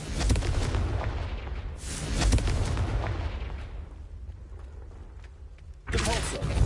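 Confringo blasting spells fired in Hogwarts Legacy on PS5, a run of loud booming explosions with crackling bursts that pile up, fade over several seconds, then erupt again near the end.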